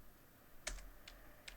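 A few quiet keystrokes on a computer keyboard: a sharp click followed by two softer taps spaced apart, faint and close with no voice.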